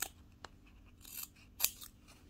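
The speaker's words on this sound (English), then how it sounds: "Okay, now I trim this one, and this side I do the same. Make sure you trim it at the same level." Scissors trimming the fabric of a French cuff shirt sleeve, giving a few separate soft snips spread apart, quiet and close, with no talking.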